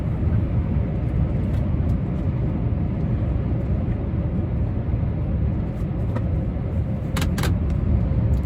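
Heavy road traffic on a small expressway, with trucks passing to the left and right: a steady, loud broadband rumble of engines and tyres that holds throughout, with a few brief higher-pitched clicks near the end.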